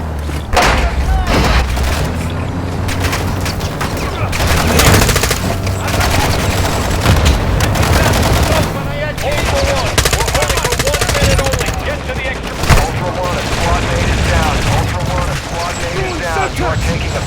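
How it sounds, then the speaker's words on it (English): Gunfire in Call of Duty DMZ on the Vondel map: loud, close bursts of automatic fire and heavy booms rattle almost continuously, with voices and game radio chatter mixed in beneath the shooting. "You are taking effective fire."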